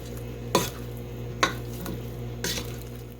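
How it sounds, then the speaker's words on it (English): Rotini pasta and chicken are stirred in a pot, with three distinct scraping clanks of a utensil against the metal spaced about a second apart over a faint background sizzle. "Next, time to give it a good stir."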